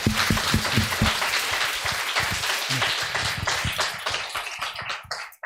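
A church congregation applauds a layman after a Bible study session, loud dense clapping close by, with a few sharp individual claps at the start, tapering off near the end.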